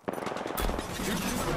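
Video game gunfire crackles in a fast automatic burst of close, punchy shots, then gives way to a heavier blast and a dense wash of battle noise with a voice faintly mixed in.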